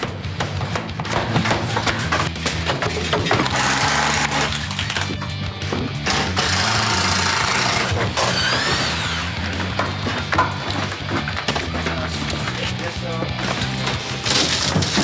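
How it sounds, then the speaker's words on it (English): Drywall being pulled off a wall and torn apart during a home renovation, with dense splintering, cracking and thumping debris noise that goes on almost without a break up close, over a low music bed and some voices. "Pull this drywall."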